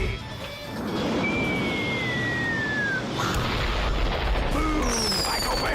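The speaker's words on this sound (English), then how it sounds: "So many explosions going on that Michael Bay is literally jizzing his pants right now." Video game explosions from Teardown rumble and boom under a continuous loud roar, with whistling, crackling debris and layered blasts building toward the end.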